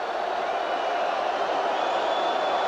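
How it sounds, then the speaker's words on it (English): At the 1988 Seoul Olympic football final between Brazil and the Soviet Union, a large stadium crowd gives off a steady, distant roar of disapproval after a foul challenge. The broad wash of noise holds evenly and has no distinct voices in it. "The crowd didn't like the challenge"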